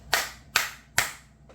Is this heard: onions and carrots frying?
no